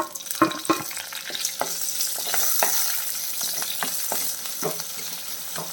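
Crushed ginger, garlic, shallots and green chili sauté in a pan with a steady close sizzle, broken by several sharp scraping and clacking strokes of a stirring spoon.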